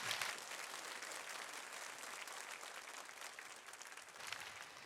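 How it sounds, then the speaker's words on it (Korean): A church congregation applauds during a summer prayer meeting, a continuous wash of many hands clapping at low level, steady throughout with a slight swell near the end. "여러분 기도하는 마음으로 또 감사하는 마음으로 박수로 맞이하겠습니다."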